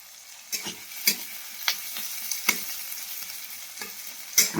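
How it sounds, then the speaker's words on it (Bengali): Onions sizzling in a wok while a spatula scrapes and stirs them in irregular strokes, fairly close and clear, with no talking. "দেখেছেন পেঁয়াজটা হালকা করে ভাজা হয়ে গেছে"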